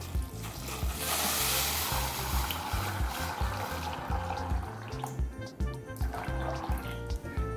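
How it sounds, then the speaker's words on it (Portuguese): Water gushes and splashes into a pot of already-washed green beans, filling it to cover them for a quick scalding; a steady rushing, sizzling pour heard up close, with no talking. "A gente vai cobrir isso aqui com água"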